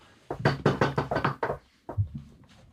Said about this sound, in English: Everyone, knock on wood right now.